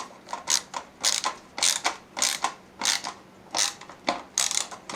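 A screwdriver turns a screw to fix a drive into a beige computer case, producing a steady series of sharp ratcheting clicks in quick pairs, close and clear with no talking.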